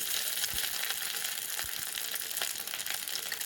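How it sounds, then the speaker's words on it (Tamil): Grated coconut fries in a pan with a soft, steady sizzle and faint crackles, quiet and close with no talking. "தேங்காய் நல்லா கோல்டன் ப்ரௌன் கலர் ஆகிறது வரைக்கும் இதை வந்து ஃப்ரை பண்ணிவிடுங்க"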